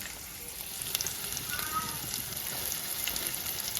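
Potatoes fry in a pan with a steady, even sizzle that holds close and fairly loud throughout, with no clear voice over it.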